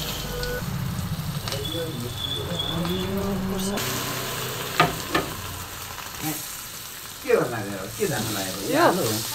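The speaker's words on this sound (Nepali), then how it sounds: "आज म चाहिँ आलु फ्राई गर्न लागिरहेको छु" Potatoes fry in hot oil with fenugreek seeds, chili and turmeric: a steady close sizzle with a few scraping stirs, and brief voice sounds toward the end.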